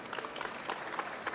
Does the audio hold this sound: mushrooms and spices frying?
no